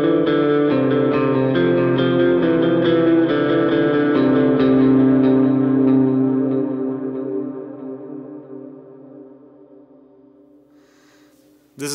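An electric guitar played through a pedalboard preset with an Eventide Blackhole reverb rings out in sustained, shimmering chords that swell and then decay slowly into a long reverb tail, alone and fairly loud.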